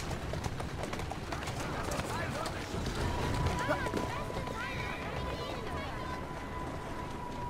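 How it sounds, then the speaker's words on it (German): Galloping horses in the video game Assassin's Creed Syndicate, a steady rush of clip-clop hoofbeats running throughout at full level, with a faint tonal whine and busy game ambience mixed in. "Und die Gäule reiten tatsächlich weiter"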